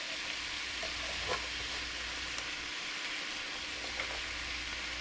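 Cabbage frying in a pot, stirred with a floppy spatula: a steady, loud sizzle runs throughout, broken by a few soft scraping stirs, with no talking.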